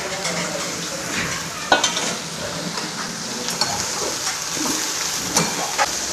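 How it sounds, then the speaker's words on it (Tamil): Ridge gourd sautéing in a pan for chutney makes a continuous close sizzle, broken by several sharp spatula scrapes and taps against the pan. "இப்போ பீர்க்கங்காய் போட்டு நல்லா வதக்கலாம்"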